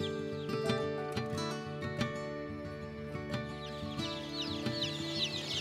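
Many chicks chirp densely at a hatchery, a constant overlapping chorus of high peeps with sharper calls and soft thumps from handling boxes, nearby and with no talking.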